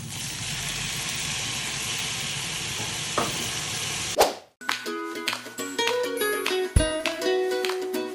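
Tomatoes hit a hot frying pan for a Spanish sardine pasta, giving a loud continuous sizzle, then a sharp clatter and stirring knocks as the frying carries on close by with no talk.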